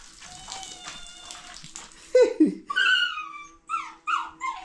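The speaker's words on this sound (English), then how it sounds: "don't mind the noise from my dog. Like, it wants to go outside" A dog whines and whimpers, wanting to go outside, its high, drawn-out cries and yelps arriving in several rising bursts after a quieter stretch of background clatter, near and fairly loud.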